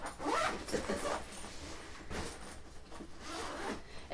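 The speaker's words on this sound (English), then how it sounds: "And then zip this up." Zipper on a Swissgear 1900 Scansmart TSA laptop backpack being pulled closed in several quick, close rasping strokes with short pauses between them.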